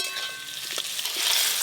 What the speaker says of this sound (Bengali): পটল চিংড়ির জন্য আলুগুলো লাল লাল করে ভাজা হয়ে গেল।